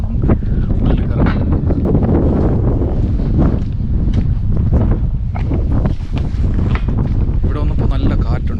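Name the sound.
strong cold wind at a hilltop cathedral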